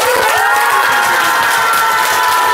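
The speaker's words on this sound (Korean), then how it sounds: "감사의 박수를 올립니다." A crowd applauds in thanks, loud and close, with rhythmic clapping and cheering blending into a dense roar alongside a sustained tonal hum throughout.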